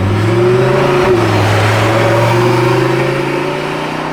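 A Lamborghini performs a launch-control start on a loose-surface sterrato setting, its engine holding a loud, steady, close drone that rises slightly in pitch, with no talking over it.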